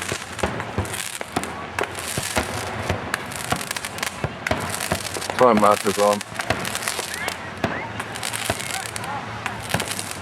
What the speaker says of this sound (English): watching the fireworks, using their own fireworks